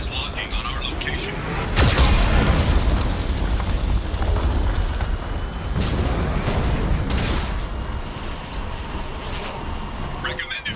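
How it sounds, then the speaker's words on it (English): Heavy Geth cannon explosions boom and rumble in Mass Effect 2, loud and sustained, with sharper blasts at intervals and a voice speaking over the din. "Warning, Geth cannon is locking on our location."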